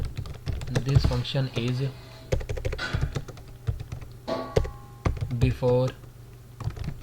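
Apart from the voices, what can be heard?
typing code on a computer keyboard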